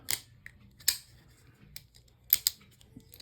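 A folding knife with a thumb stud, hole and shock lock flicked open and shut, giving sharp metallic clicks in separate pairs and singles, close and crisp over a quiet background.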